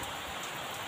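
Heavy rain pours on a hut in the middle of rice fields, a dense, even hiss of drops drumming on the roof and ground, continuous and close with no talk.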